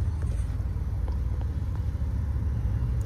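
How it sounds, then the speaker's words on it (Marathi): Road traffic rumbles steadily in a jam near Dombivli, a continuous low engine drone from cars and motorbikes close by, with no clear horns or individual pass-bys standing out. "समोर ट्रॅफिक 3 मिनिटाचा ट्रॅफिक दाखव ना"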